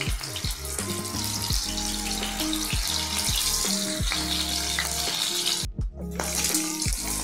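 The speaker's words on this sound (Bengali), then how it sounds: "মেখে এখন আমি মাছগুলি ভেজে নেব।" Aair fish coated in turmeric and salt frying in hot oil, a dense steady sizzle with crackling pops and a few clinks of a utensil against the pan, close up and without talk.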